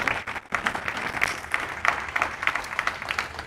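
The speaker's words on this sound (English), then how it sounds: "Please give him a round of applause." An audience at a tribute event for Norman Mullings MBE breaks into applause, a full, continuous round of many people clapping, close and steady from start to finish.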